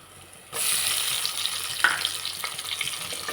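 Tomatoes and onions frying in a pan for a pepper ghee fish curry, a steady bright sizzle starting abruptly after a short quiet moment, with scattered clicks and a brief clatter, alone with no talk.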